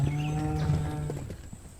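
A buffalo gives a long, loud, low moo close up, fading toward the end, used as a sound effect in a Hindi folk tale about a farmer who works the animal in his fields.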